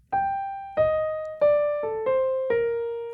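A descending jazz line played in time on piano, six clean, evenly spaced notes each ringing and decaying before the next, close and alone.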